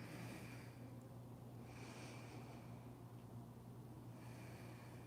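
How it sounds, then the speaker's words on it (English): Slow, deep breathing during a neck and shoulder yoga stretch, a faint steady rhythm of soft inhales and exhales over a constant low hum, with no talk. "I'm going to take a few deep breaths here."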